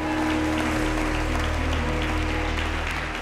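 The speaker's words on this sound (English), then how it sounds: "let's give God a hand clap of praise right there" A church congregation claps in praise to God, a steady loud wash of many hands with a low organ or keyboard drone sustained underneath throughout.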